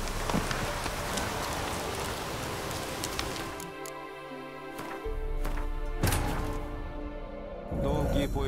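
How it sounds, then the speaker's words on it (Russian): Rain falling in the video game The Witcher 3, a steady patter and hiss of drops on surfaces with occasional thuds and cracks, mixed with game sounds and a voice speaking over it. "Планетники нам дождь посылают."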